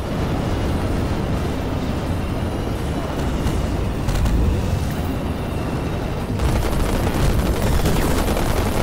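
Gunfire striking the player's car in the racing game Pacer, a continuous loud barrage of rapid shots and impacts layered over roaring engine and explosion noise, with no pause throughout.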